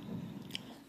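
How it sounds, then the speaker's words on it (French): A dog chews nearby, making a short burst of soft, wet biting and crunching sounds, faint and close. "si vous entendez des bruits un peu bizarres à côté, c'est pas moi, c'est mon chien"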